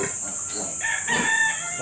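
A rooster in a rural provincial yard crows once in a loud, close, drawn-out call, with faint background noise and no speech.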